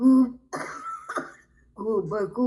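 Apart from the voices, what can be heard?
coughing and throat clearing during poem recitation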